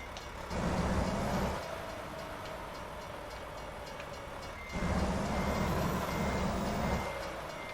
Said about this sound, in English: Oh, there's the train. I keep hearing a dang train.